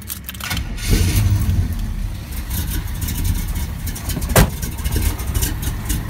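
A 1978 GMC Jimmy big-block V8 with a hydraulic roller cam, headers and Flowmaster Super 40 exhausts idles lumpy and close, with a short blip and a sharp knock partway through.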